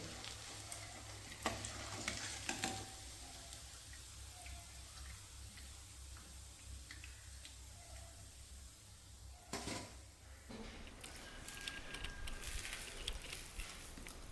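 Vegetable chops frying in hot oil, street-style, with a steady close sizzle throughout and a few brief louder stirs or handling clatters.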